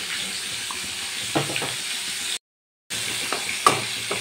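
Beaten sour yogurt goes into a sizzling pan for doi pabda, a loud continuous frying hiss with a few soft stirring clicks and a brief dropout partway through.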